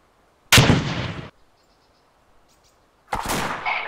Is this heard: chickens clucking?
no